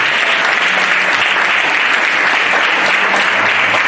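A church congregation applauds loudly and steadily for about four seconds, a dense, even wash of many hands clapping with no talk over it.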